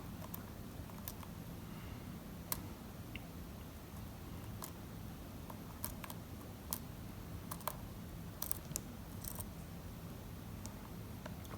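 Tiny, faint metallic clicks from a lock pick ratcheting on the fifth pin of a lock, irregular and close over a steady low hum, with no voices.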